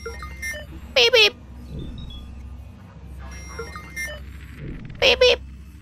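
Paired 'beep beep' bursts, likely a voice imitating an alarm, sound twice about four seconds apart over steady background game sound in Watch Dogs 2.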